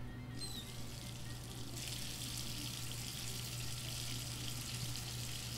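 Hot water runs steadily from a tap in the video game Life is Strange 2, a continuous close hiss and splash that brightens a couple of seconds in as the flow strengthens.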